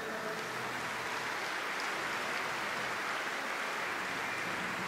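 Audience applause at a Cesta Punta trophy ceremony, a dense, steady wash of many hands clapping at a moderate distance, continuing evenly throughout.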